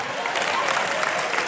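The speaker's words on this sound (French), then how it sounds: "applaudissez pour les femmes ce soir" A comedy show audience claps in a dense, steady burst of applause, fairly loud and close, with crowd voices mixed in beneath the clapping.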